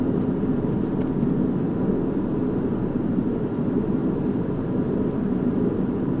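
Small airplane climbing after takeoff, a steady loud engine and airframe drone heard from inside the cockpit, constant and unbroken with no speech.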